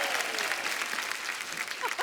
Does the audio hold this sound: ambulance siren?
no